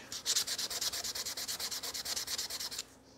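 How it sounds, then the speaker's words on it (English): Rapid rhythmic rasping as 200-grit sandpaper is rubbed back and forth over the finish of a hammer, about twenty quick even strokes close up, then stopping abruptly. "I've got some 200 and some grit sandpaper here. I want to get rid of the finish."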